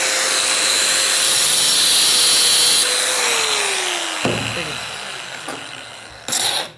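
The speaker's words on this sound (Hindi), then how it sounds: "अब देखिए ये एंगल ग्राइंडर में चलाता हूँ" Angle grinder cutting into a metal can, a loud, steady high-pitched whine with broadband grinding hiss that dips in pitch as the disc bites, then breaks into short intermittent bursts near the end.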